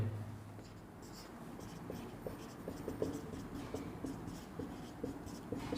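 Faint scratching of writing on a board during an English grammar lesson on gerunds, a series of short soft strokes in a quiet room with no talking.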